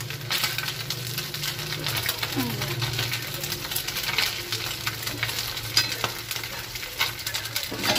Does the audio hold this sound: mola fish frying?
yes